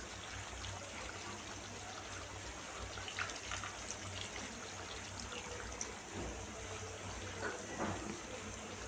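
Tamarind water poured into a pan of cooking karuvadu thokku, a dried fish relish, making a quiet continuous trickling and bubbling that stays faint and steady over a low background hum, with no talking.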